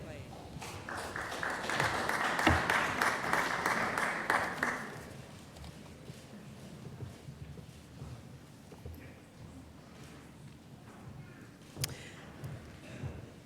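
Graduation commencement crowd applauding, a swell of clapping that builds quickly, holds for a few seconds and then fades into scattered claps and room murmur, with a voice speaking over the tail.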